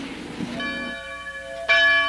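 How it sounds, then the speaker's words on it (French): Church bells ring out at full peal with bright, sustained metallic tones, a second louder strike joining near the end over a faint background hum. "Si les cloches d'une église sonnent à toute volée,"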